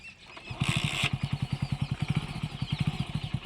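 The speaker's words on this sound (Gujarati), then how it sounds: "ચાલો તમે તમારું બાઇક સ્ટાર્ટ કરી દો" A motorcycle being readied for a slow bike challenge starts with a short hissing burst, then settles into a close, even idle of rapid, regular thumping pulses.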